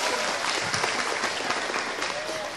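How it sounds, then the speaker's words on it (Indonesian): A crowd gathered for an Islamic sermon claps steadily, a loud, dense wash of many hands with a few sharper nearby claps and faint voices mixed in. "Tepuk tangan dulu dong."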